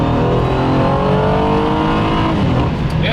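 A 2014 Honda Accord V6 on its stock tune accelerates hard through a pull, the engine note climbing steadily and loudly from close range, with no talking.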